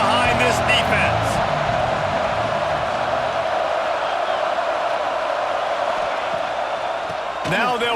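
A dense, steady stadium crowd roar fills a College Football 26 video game broadcast, loud and continuous throughout, with a commentator talking over it near the start.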